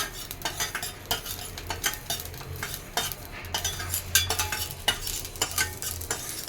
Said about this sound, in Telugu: ఇది వేసిన తర్వాత ఇట్లా కలుపుకోవాలి కొంచెం సేపు, కొంచెం వేడెక్కేంత వరకు